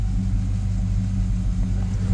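A restored 1966 Oldsmobile Delta 88 engine idles steadily and loudly up close, a continuous low rumble with no talk.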